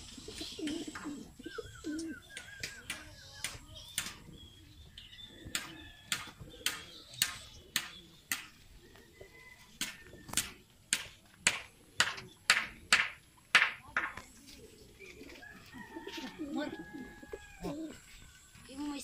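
Racing pigeons kept in a breeder loft coo repeatedly in soft rhythmic bursts, with sharp clicks and wing or perch taps mixed in. Someone speaks quietly in the background.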